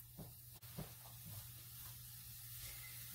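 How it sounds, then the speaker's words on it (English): Faint, steady sizzling of Western hash frying in a pan, a continuous hiss with a few soft clicks near the start. "starting to sizzle"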